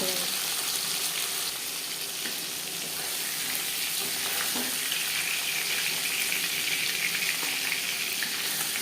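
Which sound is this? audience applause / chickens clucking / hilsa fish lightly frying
hilsa fish lightly frying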